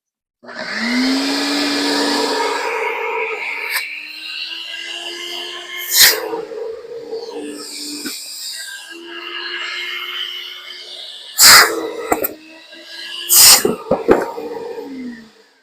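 An IPC Vertipro high-reach gutter vacuum running in a suction demonstration, a loud rising whine and roaring airflow with several sharp bursts of sucked-in debris.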